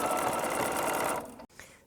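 A sewing machine runs fast and close as it stitches stretch fabric, giving a continuous whirring hum. It slows and stops near the end, then makes a brief short burst.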